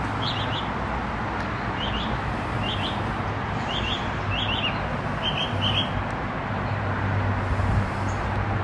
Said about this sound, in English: You can also hear some birds chirping.